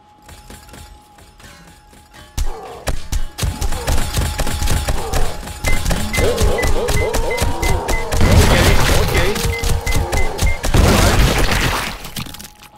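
Junk turrets in 7 Days to Die firing at demolisher zombies, a rapid barrage of sharp cracks and shattering bangs building into dense, loud continuous impacts with booming explosions.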